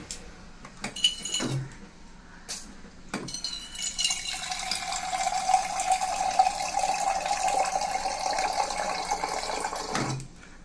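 Drinking water runs from a filter tap into a vessel for a puja offering; a few clinks of metal utensils come first, then a steady, close pouring stream that rises slightly in pitch as the vessel fills.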